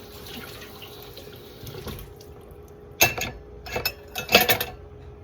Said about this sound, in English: it's helping to rinse out this jar as I'm doing other dishes